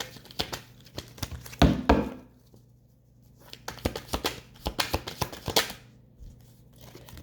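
An oracle card deck is shuffled and handled by hand, giving bursts of papery flicking, crinkling and rubbing with short pauses between, close up and fairly quiet, with no talking.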